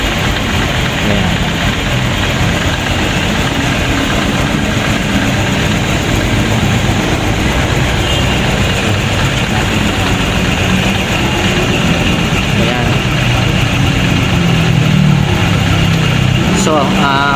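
A Honda Click 125 version 3 scooter with an unstable, low idle runs steadily at close range, a loud continuous engine drone that holds the same level throughout.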